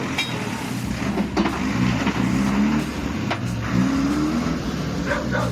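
A firewood delivery truck hauling oak and hornbeam strains while stuck, its wheels spinning as the engine revs in a loud, continuous drone with rising and falling surges.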